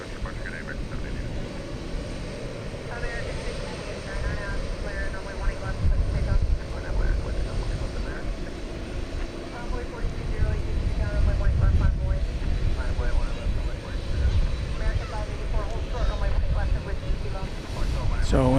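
A plane taking off on the west side of DFW Airport, a broad engine rumble building and growing louder in the second half, with a person talking intermittently over it.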